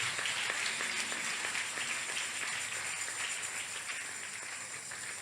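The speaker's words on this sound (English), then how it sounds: "Clap for them, clap for them" A church congregation claps steadily for several seconds during a worship service, a dense, even wash of hand claps with no break.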